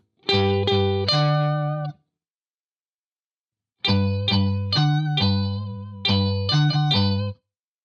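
Electric guitar run through a TC Electronic Brainwaves pitch shifter set to octaves down and a major third up, playing a short phrase, a pause, then a longer run of layered harmonized notes, loud and close.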